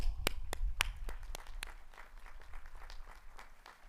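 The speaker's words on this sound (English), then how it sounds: "give yourself a round of applause" Applause at a university spring commencement ceremony: a few sharp nearby claps ring out first, then a thinner, more distant patter of clapping from the crowd that gradually fades.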